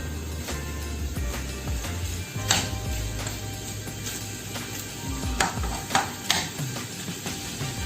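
Pork frying in a little oil in a pan for adobong tuyo over a raised flame, a steady close sizzle throughout with occasional sharper pops and utensil clicks against the pan.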